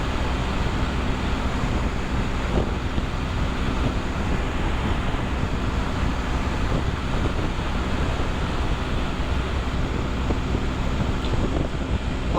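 Strong wind roars around a vehicle driving on a road trip near a lake. The rush is continuous, loud and broadband throughout, with no talking.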